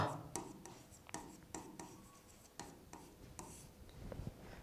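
A pen scratches across paper by hand while an example is written out, a soft, close run of short strokes and taps, faint and steady with no talking.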